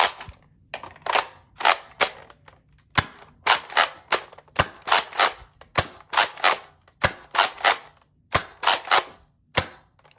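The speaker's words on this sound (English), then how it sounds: "Emptying one more mag via slam fire" A Nerf Modulus Mediator pump-action blaster slam firing darts, a rapid rhythmic series of sharp pump clacks and pops, each shot paired with a mechanical rack sound, close and repeated in quick succession.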